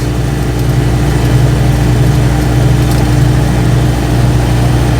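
An Invacar's small engine drones loudly and continuously while driving on the road, its revs holding at a steady, buzzing pitch without any talk over it.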